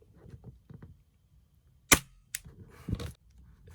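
A Tokyo Marui V10 airsoft pistol fires 0.2 g BBs through a chronograph, giving one sharp, close snap. A second lighter click and some soft handling noise follow against a quiet background.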